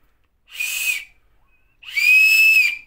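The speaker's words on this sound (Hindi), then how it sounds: "तो ये भी सीटी है बजा कर देखते हैं इसको भी" Two shrill, steady blasts from a small plastic toy whistle found in a snack packet, the first short and the second longer, loud and close with silence between.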